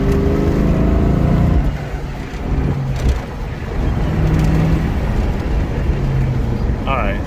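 A 2000 Ford Mustang GT V8 pulls hard under acceleration from inside the car. Its engine tone climbs, then drops at a gear change and rises again into second gear, loud and close throughout.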